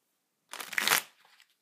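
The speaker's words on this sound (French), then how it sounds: "Et vous allez encore le retourner pour le mélanger avec ce paquet-là." Two halves of a deck of playing cards are riffled together into one pack, heard as a quick, close, crisp burst of fluttering card snaps lasting under a second, followed by a few soft settling taps.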